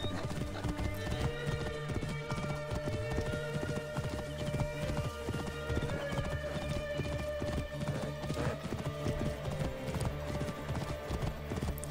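Horse hooves clip-clopping while riding in Assassin's Creed Origins, a continuous steady trot under game music and ambience, with an occasional whinny.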